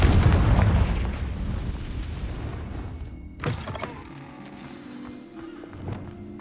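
A Confringo fire-blast spell from the video game Hogwarts Legacy goes off as a loud, rumbling boom that starts at full force and slowly fades. A sharp crack follows near the middle, then low game ambience.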